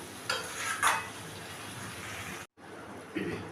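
Marinated chicken with a little water being stirred in a pot, soft scraping and sizzling strokes with a couple of louder clinks, cut by a brief silence before the sizzle resumes.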